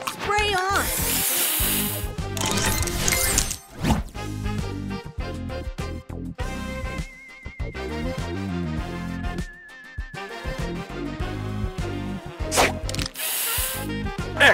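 Spray booster effect in the Match Masters puzzle game: a loud hissing spray burst at the start and again at the end, surrounded by busy chiming game jingles and tile effects, with voices talking throughout.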